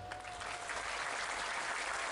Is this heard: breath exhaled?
no